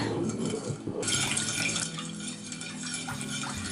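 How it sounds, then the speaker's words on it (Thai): Salt and sugar being stirred into water for salt bread dough, close sloshing and light clinks of a utensil against the bowl, busier at first and then calmer swirling. "คนให้เกลือและน้ำตาลทรายละลายดีค่ะ"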